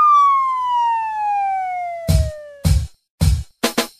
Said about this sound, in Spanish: de pronto, ay güey, sonó una sirena.